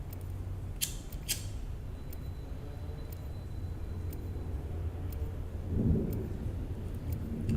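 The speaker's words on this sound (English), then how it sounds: "Big thunder. Damn. It's gonna rain." A low, distant rumble of thunder rolls steadily beneath a few sharp ticks and clicks, swelling slightly near the end with no talk.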